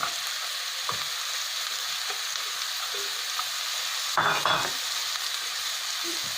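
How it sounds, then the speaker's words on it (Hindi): Carrots frying in a pan with onions, green chilli and cumin for samosa filling, a steady loud sizzle broken by a brief burst of stirring scrapes midway. "तबे एथिरे गाजरटा पकई देबा।"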